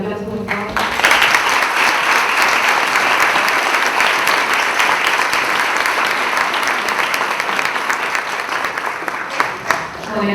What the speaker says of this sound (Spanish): agradecer a nuestros invitados por un fuerte aplauso, por favor